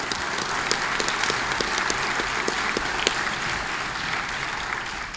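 Audience applause at an annual business meeting, a steady wash of many hands clapping in a large room, evenly sustained throughout and fairly soft in level.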